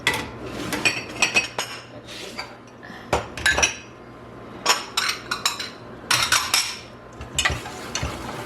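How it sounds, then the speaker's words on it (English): Small ceramic dishes clink and clatter in irregular bursts while being handled in a home kitchen during pie preparation, close and fairly loud, with a brief spoken aside. "do I have enough little dishes?"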